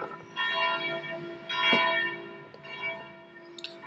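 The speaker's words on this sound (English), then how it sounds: "That's the bells of Notre Dame." Church bells of Notre Dame cathedral in Rouen, France, ringing in overlapping, resonant peals with rich sustained tones that swell twice, heard from a moderate distance with no talking.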